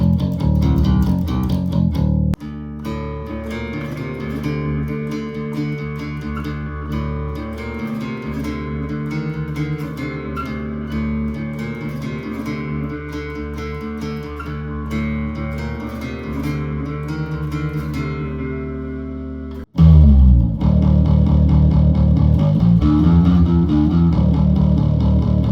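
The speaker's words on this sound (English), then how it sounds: "the last pro definitely has to be that this pedal can also be used on bass guitar" Bass guitar played through a Death By Audio Echo Dream 2 echo fuzz pedal, with thick, sustained low notes smeared by repeats. It plays continuously for about twenty seconds, breaks off sharply, then comes back louder.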